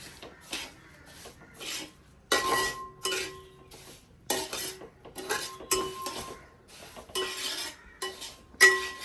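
Semolina (rava) roasting in a pan for mango rava kesari, stirred with repeated rasping, scraping strokes in irregular bursts, with occasional metallic ringing from the utensil against the pan, close and fairly loud with brief pauses between.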